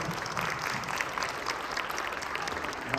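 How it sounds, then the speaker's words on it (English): Thick, sustained applause from an audience watching Choctaw social dancers perform, steady and loud over its whole length. "applause for Friendship Dance"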